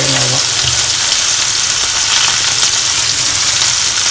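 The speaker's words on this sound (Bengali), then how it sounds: "এখন আমি এই তেলের মধ্যে একটু দিয়ে মশলাটা ভুনা করে নেব" Spice paste (masala) frying in hot oil in a pan, a loud, dense and steady sizzle throughout, with a brief voice at the very start.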